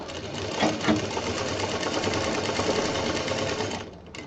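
Sewing machine stitching fabric for a bag, a continuous close whirring run of rapid needle strokes that stops abruptly near the end.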